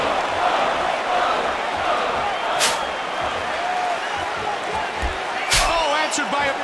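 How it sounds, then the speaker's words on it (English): Video game arena crowd roaring and cheering steadily for a UFC fighter, a dense continuous wash of voices with a couple of sharp bursts standing out, heard alone without commentary. "The crowd showing their support for John Bones Jones."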